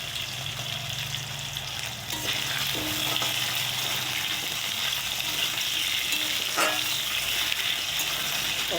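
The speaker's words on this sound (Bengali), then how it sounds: "দেখো লাল লাল করে ভাজি" Potatoes frying in oil in a pan for an egg curry, a steady close sizzle that runs throughout with occasional stirring scrapes, no voices.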